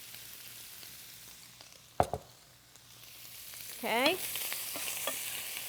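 Cauliflower rice sizzles softly in a hot sauté pan with oil, with a sharp stirring scrape and a steady low frying hiss; a voice speaks briefly.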